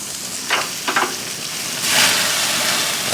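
Sausages sizzling in a frying pan on low heat, a steady crackling hiss with a couple of brief clatters as they are flipped, then a louder burst of sizzle as they settle back down.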